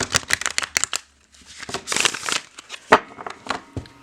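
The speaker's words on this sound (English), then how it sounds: "for this big of a thick deck, you can riffle shuffle it" Riffle shuffles of a thick, trimmed tarot deck, a flurry of fast crisp card flutters in quick bursts, close and fairly loud, with a few pauses and soft handling rustles between shuffles.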